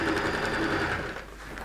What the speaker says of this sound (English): Now, as I sew around,